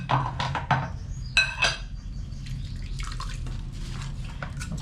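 Water running and splashing during washing at home, close and moderately quiet, with clinking and knocking of items in the first two seconds over a continuous low rush of flow.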